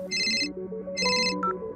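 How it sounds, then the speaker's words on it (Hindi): A phone ringtone trills in two bursts over a melodic background music bed, marking an incoming call in a Hindi audio drama. "वहीं दूसरी तरफ अनिका भी हैरान थी जब उसे उसके अतीत से जुड़ा एक फोन आया।"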